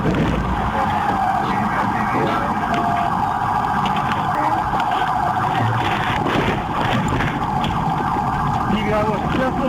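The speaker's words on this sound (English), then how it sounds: "The trooper executed a pit maneuver, which initially seemed sufficient to stop the suspect." A police siren wails continuously during a highway chase as a trooper performs a pit maneuver on a fleeing car, with road noise and a radio voice mixed in, loud and dense.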